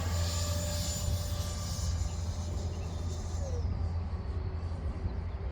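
A Banggood ESR 64mm F-16 RC jet flies with a steady, continuous ducted-fan roar that fades slightly in pitch toward the end, fairly distant and with no voices.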